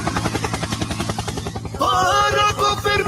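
A meme's helicopter effect pulses in a steady rapid rotor chop, loud and close, giving way after a couple of seconds to a brighter, busier burst with a tonal whine layered over it.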